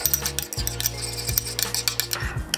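A spoon stirs dipping sauce for spring rolls in a bowl, with repeated scraping strokes and light clinks against the side, set over a low steady hum.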